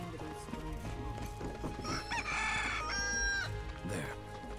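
Chickens in Final Fantasy 7 Rebirth's Gongaga region give a run of bright in-game clucks and crowing-like calls over steady game music and ambience, loudest in the middle of the stretch.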